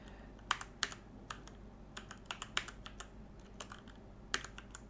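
Someone types on a computer keyboard nearby, a sparse, uneven run of light key clicks with short gaps between them.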